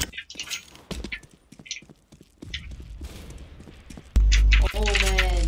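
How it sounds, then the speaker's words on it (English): A flashbang grenade detonates in a video game with a sudden loud blast, then a steady high ringing tone holds to the end, after a stretch of scattered game noises and muffled voices. "I'm throwing a flashbang"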